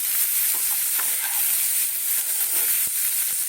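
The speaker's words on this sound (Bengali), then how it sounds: "দেখো এটা বেশি ভাজা হবে না কিন্তু এইভাবে একটু নাড়ানো হবে" Vegetables for a homemade vegetable soup are stirred in a hot pan, a dense continuous sizzle and hiss broken by soft scraping of the spoon, close and fairly loud.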